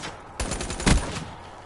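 A short, rapid burst of gunfire from the Razorback gun in Black Ops 3, several quick cracking shots within about half a second, loud and close with no talking.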